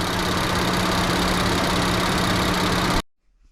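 A 2024 Nissan Pathfinder Rock Creek Edition engine idling with a steady, even rumble and a low hum, running for about three seconds before cutting off abruptly into near silence.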